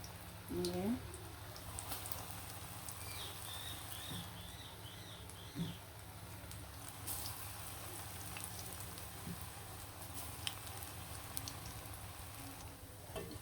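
Onions frying in hot oil for aloo chop and beguni, a soft steady sizzle and light crackle at low level, with occasional small pops and faint bird chirps in the background.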